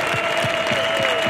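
Crowd applause at a tractor pulling event in Lochem, a steady wash of clapping heard from some distance, with a faint tone running through it.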